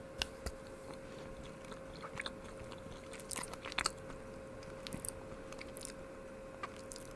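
Biting into and chewing a creme brulee flavored candy, faint scattered crunches and soft mouth clicks close to the microphone over a quiet steady hum.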